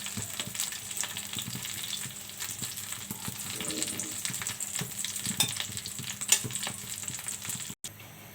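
Snakehead fish frying in oil in a home kitchen, a constant crackling sizzle with popping spatters and occasional stirring scrapes, close and moderately loud, ending in a short break with a thump.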